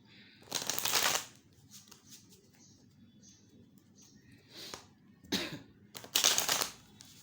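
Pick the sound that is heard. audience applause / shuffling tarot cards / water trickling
shuffling tarot cards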